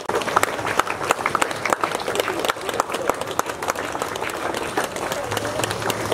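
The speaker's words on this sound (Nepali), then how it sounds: "कृपया तालीको क्रम नरोकियोस् भन्ने मैले आशा राखेँ यो मञ्चबाट।" An audience applauds at a formal handover ceremony honouring a Gurkha veteran's support for a mayor, with sustained dense clapping and voices mixed in.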